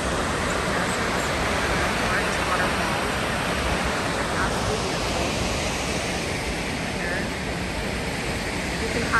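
Salt Creek Falls, a tall waterfall in Oregon, roars as a steady, dense rush of falling water that holds constant and fairly loud throughout with no pauses.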